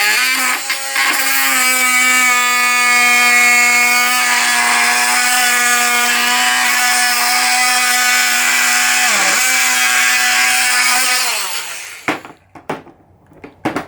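A Ryobi One+ 18V cordless multi-tool cuts through timber with a loud, steady buzzing drone. The pitch dips briefly midway, the motor winds down near the end, and a few knocks follow.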